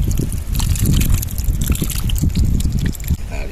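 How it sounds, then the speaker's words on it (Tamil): Water poured into a cooking pot for an outdoor quail curry, a steady close trickling splash with uneven gurgles throughout. "ஏய் அதில் தண்ணி ஊற்றுறாங்க"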